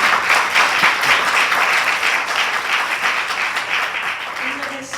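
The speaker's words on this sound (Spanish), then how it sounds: "así que denle un aplauso al Señor" A church congregation breaks into applause and clapping during a service, a sustained wash of many hands at moderate loudness that slowly softens, with faint voices underneath.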